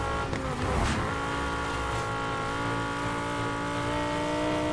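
A race car in Need for Speed Heat drives hard around a track, its engine holding a loud, steady high-revving drone after a brief burst of tire noise at the start.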